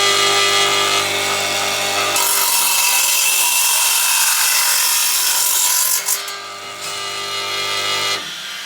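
Elu TGS 172 combination saw cutting wood at a compound angle, a loud continuous whining motor with the rasp of the blade biting through timber, a brief dip near the end as the cut finishes.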